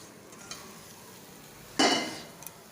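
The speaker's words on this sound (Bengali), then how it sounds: "এখন এটা একটুখানি ফ্রাই হোক মশলাটা" Spice paste frying in a pan with sugar, a faint low sizzle with a soft clink and then a brief louder scraping burst of stirring that trails off.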